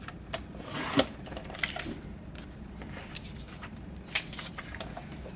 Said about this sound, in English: I've always liked the look of stitching, just a little bit of thread to add some extra texture in my projects.